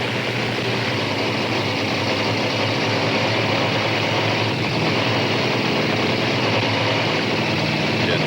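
Monster truck engine idling at the starting line of a 1995 PENDA monster truck race in Springfield, a steady broadband rumble that holds level throughout with no clear revving, with faint announcer talk mixed in.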